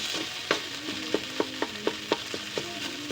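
Sitaw and canned ground meat sizzle in a pan as a spoon stirs them, giving a run of regular sharp scrapes and taps over a low frying hiss, near and fairly loud.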